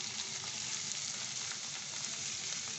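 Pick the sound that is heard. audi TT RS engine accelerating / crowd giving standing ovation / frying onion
frying onion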